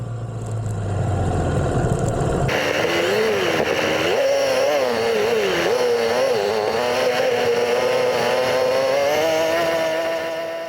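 A Hawk 250 and a Honda XR150L enduro motorcycle ride through deep beach sand on road-type tires, engines droning loud and close with rising and falling revs after a brief low rumble at the start.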